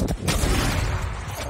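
In a 4v4 video game match, a grenade explodes in a sharp, loud blast, followed by a dense, rumbling roar that stays heavy for the rest of the moment.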